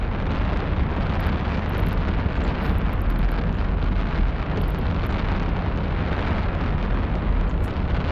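A spaceship self-destructing in the space game Eve Online gives a loud, sustained roaring rumble that holds steady with no break and no voices.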